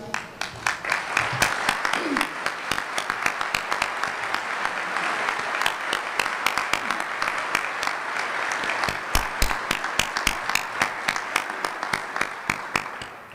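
Audience applause at the Blue Valley Educational Foundation community breakfast in 2012, a long, moderately loud round of clapping where individual hand claps stand out crisply over the steady crowd wash.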